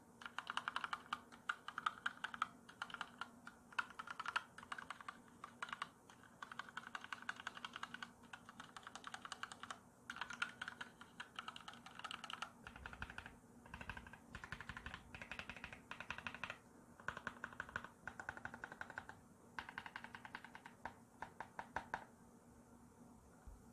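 Steady typing on an EPOMAKER EK21 gasket-mounted number pad with pink Flamingo switches, quiet close-up clacks in quick irregular bursts with brief pauses, no voices.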